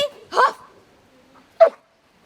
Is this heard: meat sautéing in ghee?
no